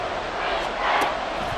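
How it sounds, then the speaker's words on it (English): A stadium crowd roars and cheers in an American football video game, a steady broad wash of noise that swells slightly midway, with no clear speech over it. "Well, this crowd into it now."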